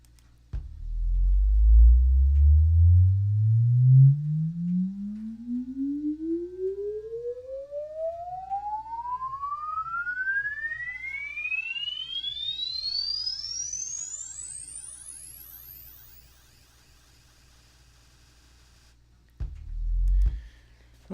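A loud sine tone swept upward through an audio plugin, rising steadily from a low hum to a piercing high whine over about fifteen seconds, with faint descending and chirping artifacts around it, then silence and a brief low rumble.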